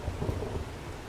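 Rain and rolling thunder in the survival game 7 Days To Die, a steady low rumble under a constant hiss of rainfall, brief and unbroken.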